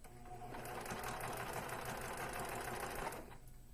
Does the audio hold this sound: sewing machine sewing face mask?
yes